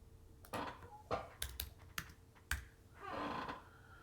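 Keys are tapped on a computer keyboard: a handful of separate clicks with uneven gaps, followed by a brief softer flurry of typing. The sound is quiet and close, with a faint steady hum behind it.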